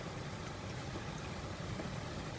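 Typhoon-strength wind roars without letup, a broad and constant rushing noise heard up close and alone, with no talking.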